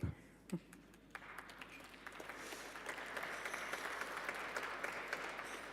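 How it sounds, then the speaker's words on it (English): Audience applause at a book publishing and authorship talk, starting with a few scattered claps and swelling into steady, moderately distant clapping that holds to the end. "Thank you, brave applauders."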